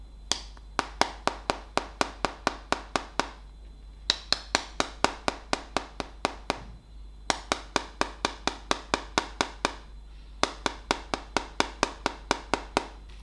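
Feet tapping on a Maple Oak Marley dance mat, sharp close slaps in quick rhythmic bursts of about a dozen, separated by short pauses, with no voices.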